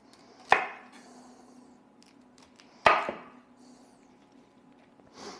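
Two crisp knife chops slice Brussels sprouts in half on a cutting board, sharp close thuds a couple of seconds apart with a softer tap at the end.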